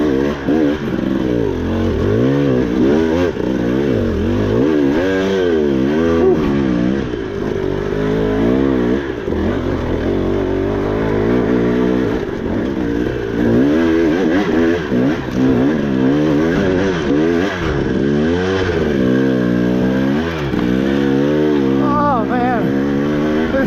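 Dirt bike engine revving on a hard off-road ride, its pitch constantly rising and falling as the throttle opens and closes, loud and close throughout, with a rider talking intermittently over it.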